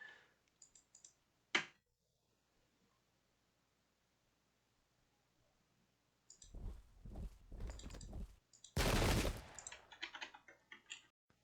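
Musket volleys in the Pike and Shot strategy game, set at the 1645 battle of Auldearn: a sharp crack early, then after a long quiet stretch a cluster of loud bursts and a heavy rolling discharge.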